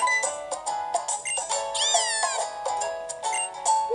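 Game cat Pokémon in Pokémon Ultra Moon giving a run of synthesized meows and a rising caterwaul-like cry, clear and close with looping game music beneath and no talking.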